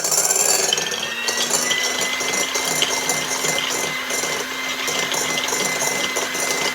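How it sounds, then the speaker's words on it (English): Electric mixer whirring steadily on medium speed as it beats egg yolks, a continuous close motor hum with rattling texture, no talking. "we're going to mix the egg yolks until they reach a pale yellow color on medium speed"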